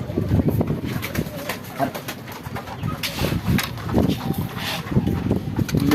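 A flock of pigeons gathers around scattered food in the evening, cooing repeatedly and close by with rustling and pecking beneath, while a person talks intermittently over them.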